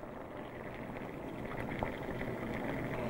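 A marinade of white wine, soy sauce and maple syrup warms in a pot, giving a steady, even bubbling hiss with a soft simmer throughout, fairly close and with no voices.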